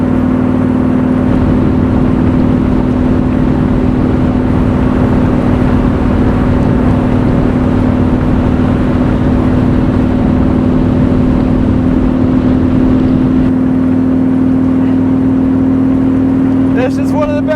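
Superformance Shelby Cobra roadster running on an open road, its engine a steady loud drone with strong low hum throughout, wind and road noise mixed in, and a brief rise near the end.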